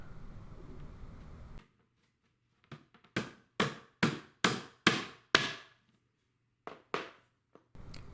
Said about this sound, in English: Then nail the fasteners to the sides